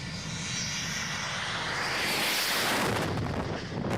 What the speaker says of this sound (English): this overweight Boeing 727 taking off too late from an airport in Colombia